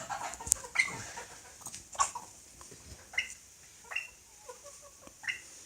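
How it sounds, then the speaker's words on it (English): Farm chickens at a nature centre in Quebec give short, scattered clucks and squawks, with a few sharp calls spread across several seconds against a quiet outdoor background. "We're getting fresh eggs from the chickens over there."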